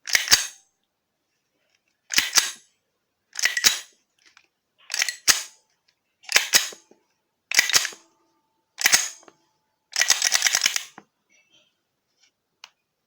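A Zoraki 2918 blank pistol fires about eight loud, sharp reports spaced a second or so apart, each with a snappy slide-cycling clack, ending in a longer rattling burst and then a single faint click, with no talking.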